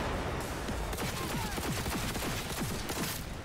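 Rapid bursts of gunfire in the video game Cyberpunk 2077, loud and close, with shots fired in quick rhythmic succession and echoing whines over a dense, noisy combat backdrop.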